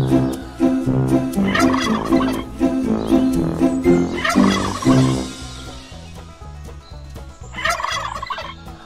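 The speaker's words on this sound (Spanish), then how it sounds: "Pavo." A turkey gobbles loudly and repeatedly, rapid warbling calls close by, coming in several bursts with short pauses between them.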